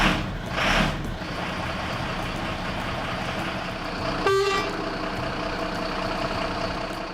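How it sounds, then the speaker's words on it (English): A large truck rumbles along a road in Kenya with continuous engine and road noise, and a single loud horn toot sounds about halfway through. "These trucks are big."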